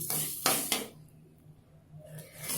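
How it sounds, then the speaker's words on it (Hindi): A spoon scrapes and knocks against a pan while sugar is stirred over low heat for semolina and milk halwa, a few sharp clinks then quieter scraping, no voices. "इस तरह से चला करके इसे हल्के आंच पर ही चलाना है।"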